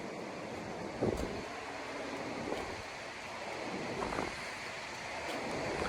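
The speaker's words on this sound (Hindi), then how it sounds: "नीचे नदी का शोर बहुत अधिक हो रहा है" A river rushes loudly far below a mountain path near Kalpeshwar temple in the Urgam valley, a continuous broad roar mixed with wind noise and no talk.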